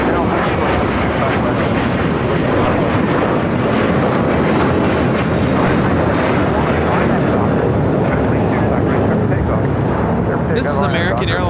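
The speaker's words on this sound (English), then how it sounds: "This is American Airlines 2135 taking off to Orlando, Florida on A321." American Airlines Airbus A321 taking off at LAX, its jet engines a loud, steady roar that fills the whole stretch without letting up, close and dominant.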